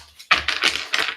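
A deck of tarot cards being shuffled by hand: three close, quick papery bursts of riffling with short gaps between them, with no voices.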